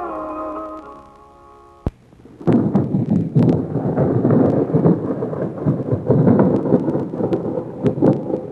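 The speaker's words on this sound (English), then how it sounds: "Boy, just listen to that thunder." Thunder breaks with a sharp crack, then a long, loud, rolling rumble continues with rain-like texture, following a quieter stretch of faint tonal sound.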